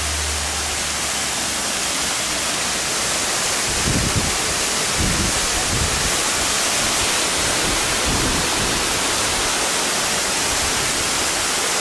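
Artificial cascading waterfall at a fountain complex on Tenerife, a loud steady broadband rush of falling water with a few low thumps of wind, no voices.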